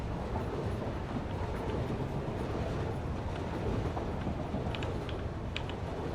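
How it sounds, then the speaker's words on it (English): Train running in the Satisfactory factory-building video game, a steady low rolling rumble with faint rail clatter, quiet and unbroken, with no talk over it. "And now I'm going to get run over by the train."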